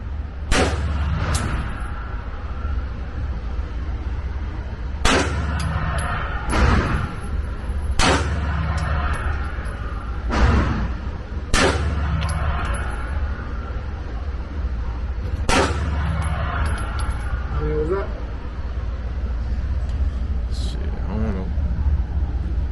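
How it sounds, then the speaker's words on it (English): Pistol gunshots on a shooting drill range ring out as sharp, loud isolated cracks at irregular intervals, about eight shots spread over the stretch, with steady background rumble and some people talking between them. "Each shooter has 5 shots"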